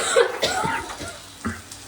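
Short bursts of deliberately faked coughing from a person at home, a few quick throaty coughs in close succession, near and fairly loud.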